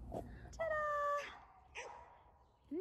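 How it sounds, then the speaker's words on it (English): Dogs bark and yip in the background at a home during a family DIY greenhouse build. The calls come in short, fairly faint bursts, with a drawn-out whimpering whine in the middle. "Excuse my dogs barking in the background."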